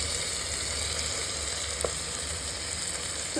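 Chopped tomatoes sauté in a pan with a steady close-up sizzle and a faint stir or two, and no one speaks.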